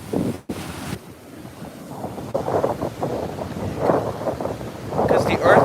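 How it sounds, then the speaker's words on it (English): Ocean waves roll and crash at Montara State Beach in California, a steady loud surf wash with rising surges, heavily buffeted by wind noise on the microphone. "I think here comes a giant wave over there. Whoa, that was a huge splash."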